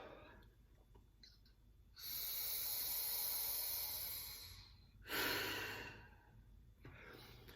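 Two long breaths out pass through an O2 Trainer breathing device, each a strong close airy hiss lasting a few seconds with a short pause between, set against a quiet background.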